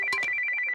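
A mobile phone ringtone sounds at night, a short bright electronic melody with a steady high tone and a few quick notes, loud and close, cutting off abruptly.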